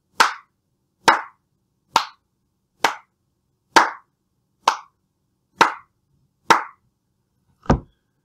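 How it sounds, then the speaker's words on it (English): A single person's hands clap a steady beat, nine crisp claps evenly spaced about a second apart, close and clear against silence. "I'll keep the steady beat by clapping for you"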